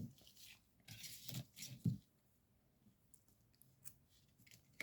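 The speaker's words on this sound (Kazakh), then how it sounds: "Мына жақтағы жібімізді қиып алып," Close, quiet snips of scissors cutting knitting yarn, a few crunchy cuts in the first two seconds, then faint rustling, with no voices.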